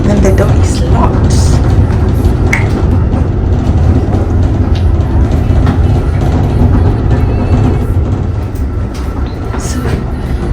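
Inside an Amtrak Acela high-speed train in business class, a loud steady rumble and roar of the moving carriage fills the cabin, with faint rhythmic rail clatter and occasional small knocks throughout.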